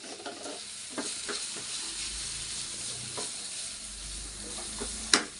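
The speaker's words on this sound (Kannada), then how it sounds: "ಇದೊಂದು ಸ್ವಲ್ಪ ಫ್ರೈ ಮಾಡ್ಕೊಳ್ಳೋಣ" Bendekayi gojju: okra masala frying and sizzling in a pan, a steady close hiss with scattered stirring scrapes and one sharp clack near the end, no voices.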